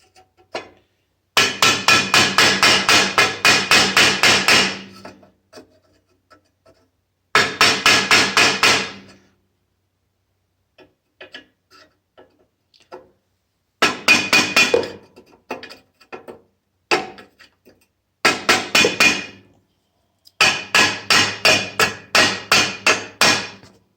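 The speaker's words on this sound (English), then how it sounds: "Then you just want to take a hammer." Bursts of sharp, rapid hammer blows on a hard surface of an 8hp Murray snowblower, several seconds each, separated by quiet pauses; no talking.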